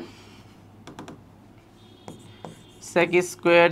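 Marker or chalk strokes on a board during a trigonometry math class, a few faint scratchy taps early on, then two louder bursts of writing near the end, with a quiet room hum beneath.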